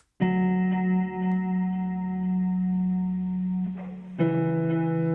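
A sustained low, thick electric guitar chord, pitch-shifted down a couple of semitones with a pitch pedal, rings out with effects, then is restruck near the end, sounding deep and baritone-like.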